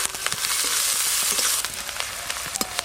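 Chopped onion sizzling in hot mustard oil, a steady close crackle with occasional louder pops and no talking.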